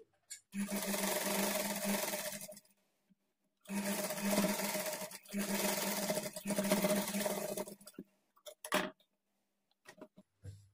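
A sewing machine runs along the folded edge of a girl's lehenga waistband, with three long buzzing bursts separated by pauses. Brief clicks and handling noises follow near the end, and no one speaks.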